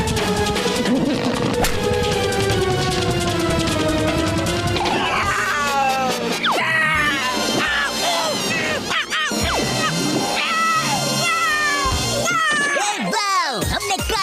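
Cartoon cat Kaliya meows and yowls amid a busy, loud animated soundtrack of music, crashes and commotion, with voices talking over parts of it as he is chased off.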